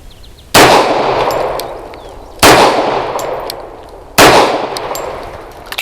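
A Bersa B1911 pistol fires Remington Ultimate Defense 230 grain brass-jacketed hollow points, three loud sharp shots spaced roughly two seconds apart, each followed by a ringing decay.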